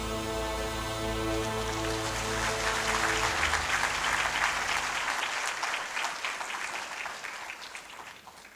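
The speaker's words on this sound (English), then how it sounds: "So the applause says it all." A crowd applauds at the opening ceremony of a 10th anniversary and research conference; the clapping swells under a fading sustained musical chord, then carries on alone, dense and loud, before gradually tapering.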